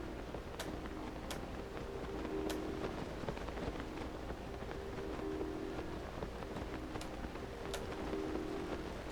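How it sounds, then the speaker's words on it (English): Rainfall in the video game Zelda: Tears of the Kingdom, a steady, dense hiss of rain with occasional sharper drop ticks, constant and fairly loud throughout. "Oh, it's raining?"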